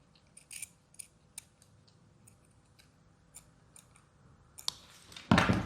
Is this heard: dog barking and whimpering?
no